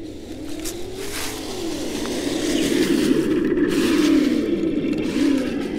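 A Tamiya Clodbuster RC truck's electric motor whirs and winds up and down in pitch, growing louder with a gritty scraping texture and outdoor wind noise around it.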